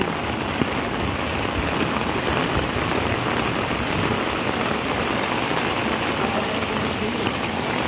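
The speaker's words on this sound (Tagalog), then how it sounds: "Lakas ng ulan." Heavy rain pouring down steadily, a dense, loud hiss with patter on surfaces that never lets up, and no one speaking.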